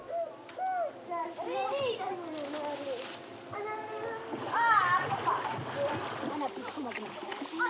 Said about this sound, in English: Every morning, before school, they practice swimming together.